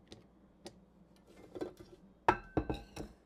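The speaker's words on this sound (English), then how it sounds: "I'm going to go ahead and take my spatula and get the sides and those big clumps of molasses that are left behind" A spatula scrapes the sides of a bowl of sugar and sticky molasses: a few soft, close scuffs, then a cluster of sharper knocks and clinks against the bowl near the end, fairly quiet overall.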